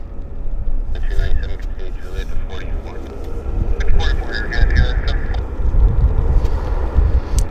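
A Korean Air airliner touches down on a wet runway at Vancouver, a low rumbling roar with hissing spray and gusty wind buffeting the microphone, while a person talks nearby.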